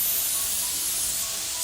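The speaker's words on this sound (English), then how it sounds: "Now it's time to steam the soap." Steam sprays steadily onto a homemade squishy soap, a continuous loud hiss that holds evenly for under two seconds with no voices.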